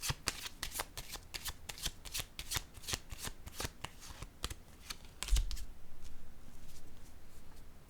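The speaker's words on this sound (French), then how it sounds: "Je vais piger une autre carte." A card is drawn from a handled deck, heard as a rapid run of close, crisp flicking clicks, then a soft thump followed by quieter rustling.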